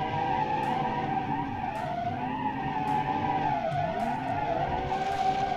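A heavy 3.5-ton car drifts in a video game, its tires squealing in one loud, sustained skid over a droning engine, close and continuous with no talk.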